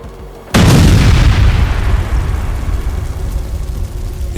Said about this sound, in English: It hits the Grad launcher with precise strikes, removing the artillery threat so ground forces can continue their assault.